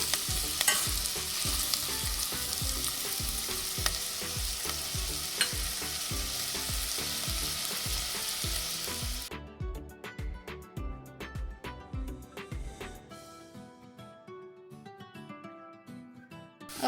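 Carrots and onions sizzling in a pan for soup, with a steady close hiss and frequent rhythmic stirring clatter. About halfway through, the frying noise drops sharply and the stirring taps carry on more sparsely.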